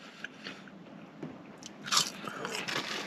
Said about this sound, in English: They look like they got a pretty good crunch to it.